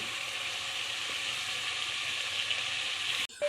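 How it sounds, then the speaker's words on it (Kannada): Steady, bright sizzling of mutton frying with turmeric and onion in a pan, continuous and fairly close, with a brief stir or clatter near the end and no talking. "ಮಟನನ್ನು ಚೆನ್ನಾಗಿ ಐದು ನಿಮಿಷ ಫ್ರೈ ಮಾಡಿ"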